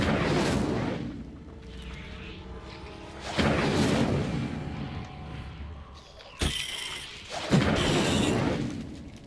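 Incendio fire spell in Hogwarts Legacy, several bursts of whooshing flame and booming impacts, loud and close, separated by quieter rumbling stretches and a sharp crack near the end.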